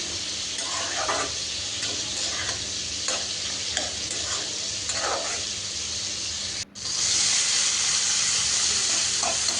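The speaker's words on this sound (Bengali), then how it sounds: "আর এদিকে ভাজিটাও হচ্ছে" Vegetable bhaji sizzles steadily in a pan, a constant hiss of frying punctuated by scraping stirs at irregular intervals, with a brief dip before the sizzle resumes louder.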